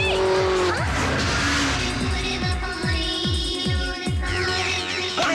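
Vehicles in a motorbike chase scene from the Kannada film Aham Premasmi, engines revving and whining up and down repeatedly with tyre squeals, loud and busy throughout.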